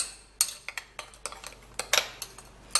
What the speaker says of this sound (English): stir it really good